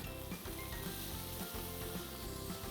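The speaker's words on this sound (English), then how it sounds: "We stir this till the paneer gets a crispy coat" Paneer fries in a pan with cumin powder, a loud, steady sizzle and crackle of hot oil that continues without pause as the pieces are stirred.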